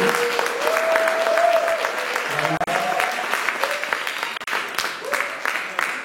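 A church congregation bursts into steady, dense applause that fills the room, continuous and loud with scattered voices beneath it.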